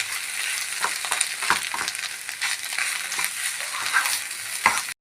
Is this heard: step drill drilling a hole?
no